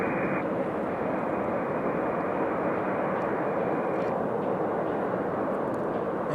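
An American Airlines Airbus A321 departs Raleigh Durham airport with a steady, loud broadband engine roar that holds throughout, heard alone with no talk.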